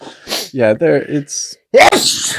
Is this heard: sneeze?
yes